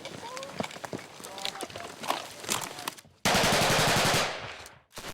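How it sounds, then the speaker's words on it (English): Gunfire in a Taliban ambush on a platoon in the hills above a village, with rapid bursts and sharp cracks cutting through shouting voices, followed by a sustained loud roar of close firing. "There's chaos as the shooting begins and the adrenaline flows."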